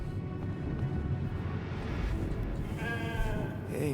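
A sheep bleats in The Alters video game as it is petted, giving a wavering mid-pitched bleat near the end over a continuous low game background hum.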